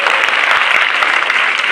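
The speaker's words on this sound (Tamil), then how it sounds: "கைத்தட்டு" Schoolgirls in an auditorium break into brisk, loud applause, with dense overlapping claps close to the microphone throughout the brief burst.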